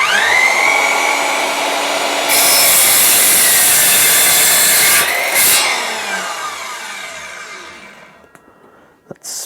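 A Worx WX845 20V cordless 216mm mitre saw spins up and chops through wood, a loud whining cut that rises sharply and holds for a few seconds before the blade winds down and fades to near silence.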